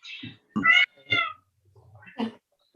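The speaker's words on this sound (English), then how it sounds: "My cat's making a guest appearance, she's hungry." A hungry cat meows close to the microphone during an online meeting, four separate cries spaced irregularly across nearly three seconds, with quiet gaps between.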